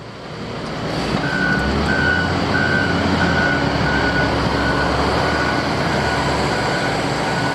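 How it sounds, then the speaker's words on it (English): A dump truck arrives at a construction site where a valve is being set into a trench, its reversing alarm beeping steadily in an even rhythm over a loud, continuous low engine rumble. "Here comes a dump truck right now."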